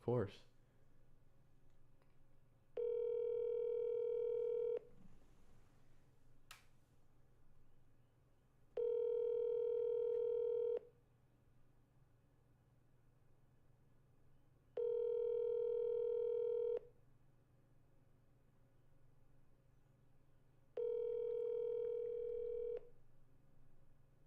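Telephone ringback on an outgoing call sounds four times, each long steady tone separated by pauses of quiet line hiss, with a click at the start.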